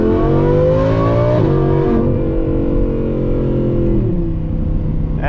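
Audi R8 fitted with a Valvetronic F1 exhaust, its engine revving hard and close with rising and stepping pitch through quick shifts before settling into a lower drone.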